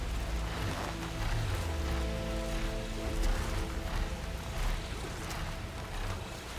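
Steady rain in the video game Horizon Forbidden West, a constant even wash of falling drops mixed with low rumbling ambience and a faint sustained tone, with no talking over it.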